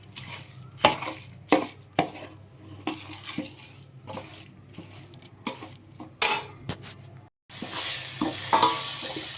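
Turkey berries sautéing in a ladleful of oil, a sizzling fry broken by repeated sharp scrapes and clinks of a ladle against the pan, then a short pause before a loud burst of hissing.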